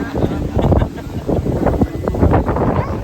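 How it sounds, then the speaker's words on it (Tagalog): Strong wind buffets the microphone in rough, continuous gusts in open countryside in Bicol, Philippines, with a low roar rising and falling throughout. "Sobrang lakas ng hangin guys."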